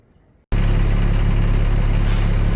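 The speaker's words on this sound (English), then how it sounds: "now I'm going to go start up the truck and warm it up" MTVR MK23 7-ton military truck engine, running up suddenly after a brief near-silence and then holding a loud, steady, close diesel drone with a brief high whine near the end, no voices.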